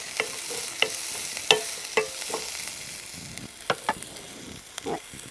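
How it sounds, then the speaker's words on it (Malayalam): Cut green chillies being sautéed in a hot pan for a Kerala vegetable stir-fry: a soft, steady sizzle under repeated scraping strokes of a spoon, at an uneven rhythm and close by, with no talk. "അതൊന്ന് അങ്ങോട്ടേക്ക് വഴറ്റി ചൂടാകുമ്പോഴത്തേക്കും ചെറിയ 2 പച്ചമുളക് മുറിച്ചെടുത്ത് കൊടുക്കാം."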